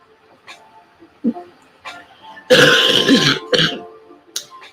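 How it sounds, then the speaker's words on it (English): A loud, harsh cough from someone who is ill bursts out, broken into a couple of rough hacks, after some quiet throat noises. "that's a horrible cough"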